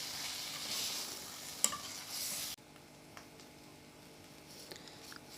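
Fried boneless fish pieces being stirred into cooked masala in a pan, a loud sizzle with a sharp scrape of the spoon, then dropping abruptly to a faint, low frying hiss with occasional small taps.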